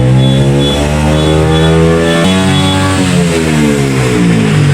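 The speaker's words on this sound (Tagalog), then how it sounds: "nag-iingay ang mga motor" Loud motorcycle engines rev up and down nearby, rising and falling in pitch, with a sharp throttle blip midway.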